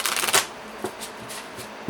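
Tarot cards are shuffled by hand, giving a close, crisp riffling burst followed by several lighter, spaced flicks of cards being cut and tapped. Nobody speaks.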